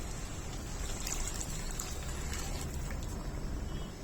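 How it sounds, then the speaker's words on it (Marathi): Lukewarm water pours continuously into a pot of chicken curry, giving a steady splashing trickle at moderate level for a few seconds with no voices. "आपण चार वाट्या कोमट पाणी करून घेतलंय ते घालून घेऊया"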